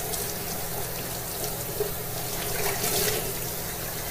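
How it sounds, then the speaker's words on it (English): Water runs continuously from a kitchen tap into a sink while desserts are being prepared, a steady close splashing rush with no talk over it. "just using the water"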